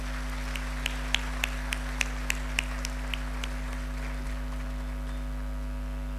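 At a Holy Mass for an annual pilgrimage at a national Marian shrine, the audience welcomes pilgrims with sparse, evenly spaced claps, about a dozen distinct hand strikes that fade out over a steady electrical hum.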